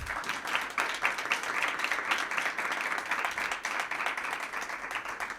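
Audience applauding a guest at a live legal-profession vodcast event, steady dense clapping sustained throughout at moderate distance with no talk over it.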